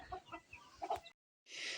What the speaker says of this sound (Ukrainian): Тут курочка зараз стоїть бентамка